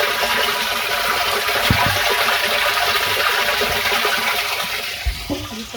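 Water gushes steadily into a tank as it fills, a continuous close rushing flow that eases slightly near the end, with a couple of faint knocks and no talk.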